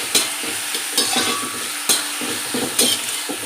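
Sliced capsicum and carrot are stir-fried for veg Hakka noodles, with a loud close sizzle broken by four rhythmic scraping tosses of a spatula against the pan, and no talking.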